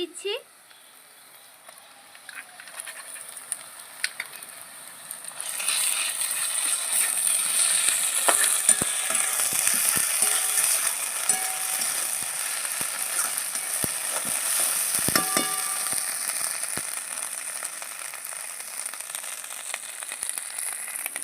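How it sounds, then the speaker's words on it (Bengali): Ginger, garlic and green chili paste goes into hot oil, where onions are frying, setting off a steady, fairly loud hiss and crackle that runs on for about fifteen seconds with scattered pops. "আদা বাটা রসুন বাটা আর কাঁচা লঙ্কা বাটা আমি একসাথে মিশিয়ে নিয়েছি আমি দিয়ে"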